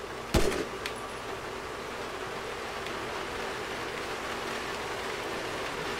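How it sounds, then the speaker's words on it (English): Steady soft rain hiss in a GTA V game scene, a constant even wash of noise with a sharp click near the start. "Oh no, it's raining."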